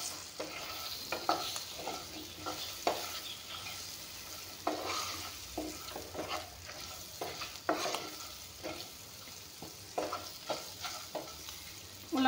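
Tomatoes fry and get stirred in a pan for a fish curry, with repeated scraping stirs and clatter over a steady sizzle throughout, close by and with no talking.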